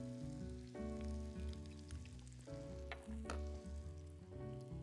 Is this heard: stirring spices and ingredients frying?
yes